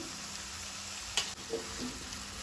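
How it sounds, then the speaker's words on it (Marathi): Chopped tomatoes and green chilli fry in a pan for Goan-style chana masala, giving a steady soft sizzle with a brief scrape or stir partway through. "टमाट अशे बरे तळसून घेवपाक जाय, बरे शिजोवन घेवपाक जाय।"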